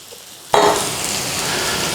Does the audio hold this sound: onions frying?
yes